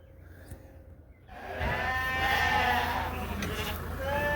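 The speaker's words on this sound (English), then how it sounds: "I'm just feeding sheep right now" Sheep being fed bleat together in a sustained, wavering chorus that rises after a quiet start, close by and steady.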